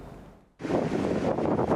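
Strong gusts from Hurricane Beryl in Sugar Land, Texas, a sudden loud roaring rush of wind hitting the microphone after a quieter moment, then holding steady and close.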